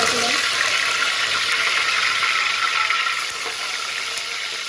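Curry leaves hit hot oil in an outdoor village kitchen, giving a loud, steady hissing sizzle that carries through the whole stretch and eases slightly near the end.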